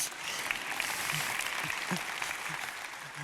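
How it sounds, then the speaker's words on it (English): Brief audience clapping at a talk about fatherhood, fairly faint and scattered, with a few low voice sounds under the applause. "And so, yeah, you can clap for that."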